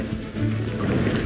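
Rain falling with a low rumble of thunder in the video game Genshin Impact, a dense, fairly loud wash of rain with deep rolling underneath, with no talking.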